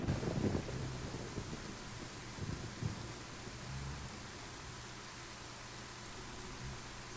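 Steady rain hiss and low rolling thunder in the video game DayZ, with a couple of soft rumbles early on over a constant wash of rainfall, no voices.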